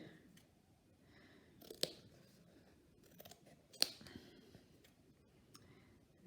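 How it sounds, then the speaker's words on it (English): Scissors snipping through a felt star, a few crisp separated cuts with quiet soft rustling between them, close and faint, with no talking. "you see how I cut my star out?"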